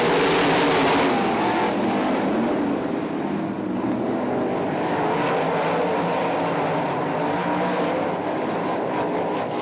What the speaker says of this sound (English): to hold off Ryan Rule and Dustin Daggett to get heat race number 1 underway.